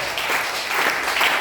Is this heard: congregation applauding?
yes